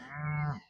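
A single loud cow moo from cattle grazing a one-acre paddock, close by, rising and holding a low, steady tone for about half a second before trailing off.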